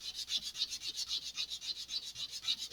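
Sandpaper works a groove into an Estes Black Brant XII model rocket in quick, even back-and-forth strokes, a soft rhythmic rasping at about six strokes per second, close and quiet with no talking.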